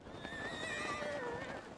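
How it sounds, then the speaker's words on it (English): A horse in the video game Zelda Breath of the Wild gives one clear whinny that falls in pitch, with a faint background hum. "having your horse take a nosedive straight off a cliff edge and fall to its doom"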